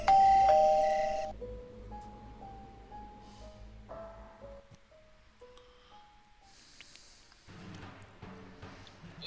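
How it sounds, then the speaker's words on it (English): A doorbell ringing in the video game Meteor Mess, a loud opening chime followed by a gentle descending sequence of soft tonal notes over quiet game ambience. "Oh, the doorbell."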